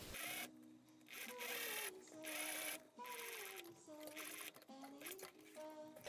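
A sewing machine stitches a welt onto a jacket front piece in several loud, close whirring runs separated by brief pauses, with a voice heard between the runs.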